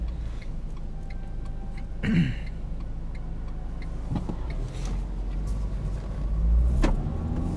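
A Renault Clio 1.5 dCi GT Line diesel with an EDC dual-clutch gearbox drives along with a steady low engine drone inside the cabin, broken by a few brief clicks and soft shifts, with no talking.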